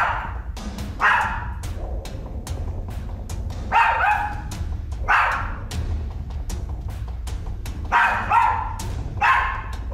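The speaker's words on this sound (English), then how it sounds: "it seems to be barking at someone who's sitting on the sofa" A dog barks in a small room, repeated sharp barks and yips in irregular bursts over a low background hum, close and moderately loud, with no talk.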